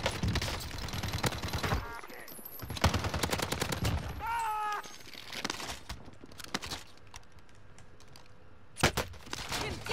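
Gunfire in the video game Call of Duty Warzone: bursts of rapid shots and scattered single cracks over busy game noise, with a loud shot near the end.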